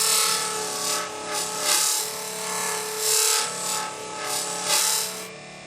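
A VSB burnishing machine spins against the edge of quality vegetable-tanned leather, producing a continuous high hissing friction sound that swells and eases in repeated passes, close and fairly loud.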